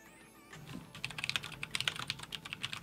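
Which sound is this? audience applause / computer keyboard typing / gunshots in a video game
computer keyboard typing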